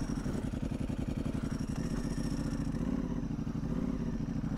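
A 2025 Ducati Panigale V4S Tricolore engine pulls away with a loud, steady low rumble and rhythmic pulsing that continues throughout, with no speech.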